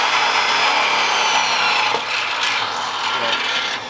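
A drill bores through plywood mounted on a Jeep bumper, giving a continuous gritty, rasping whir, loud and close, that eases slightly in pitch and level toward the end.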